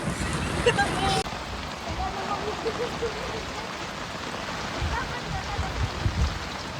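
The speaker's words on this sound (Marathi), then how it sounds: "पाऊस आला पाऊस" Steady rain hisses throughout, with a louder burst in the first second before settling into an even wash; faint voices murmur in the background.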